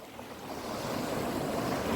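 Sea surf rolling onto the shore at Bukana, Batangas, a steady broad wash of breaking waves with wind buffeting the microphone, no voices.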